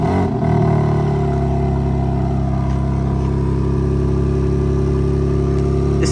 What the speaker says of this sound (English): this is how it sounds stock